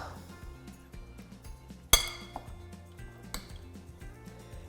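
A spoon clinks against a dish while a healthy recipe is mixed in a teaching kitchen, with a few light scrapes and one sharp, bright clink standing out, then a softer knock, close and clear with no talking.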